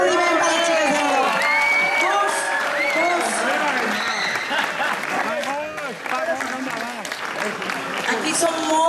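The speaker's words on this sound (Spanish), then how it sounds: "Un aplaudiment per les xiques de l'Oro." Festival audience at a diversity celebration's closing applauding and cheering, dense clapping mixed with whoops, shouts and excited voices, loud and continuous throughout.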